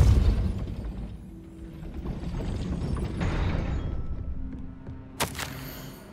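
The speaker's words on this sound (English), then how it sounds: "That looks as if it might raise the gate." In a magic-school video game, a gate mechanism grinds and ratchets as it raises after a Depulso spell, a rumbling mechanical churn that fades to a low hum before a sharp clank near the end.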